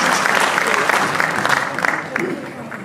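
An audience at a Cancer Survivors Day event claps loudly for the Governor, a dense, steady round of applause that tapers off slightly toward the end.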